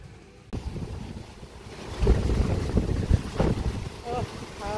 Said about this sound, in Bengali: আমাদের এখানে কাল বৈশাখী ঝড় আরম্ভ হয়ে গেছে